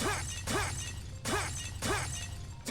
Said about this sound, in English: Start smashing jars.